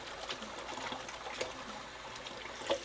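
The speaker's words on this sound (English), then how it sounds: "Let me wash my hands here because they're all shrimpy." Running tap water splashing over hands at a kitchen sink, a steady close trickle and hiss with small splashes, heard alone without talk.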